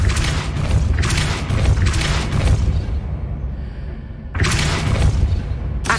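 Spell blasts and magical impacts from the Hogwarts Legacy video game, repeated booming bursts with dense crashing texture, a brief lull before another loud surge.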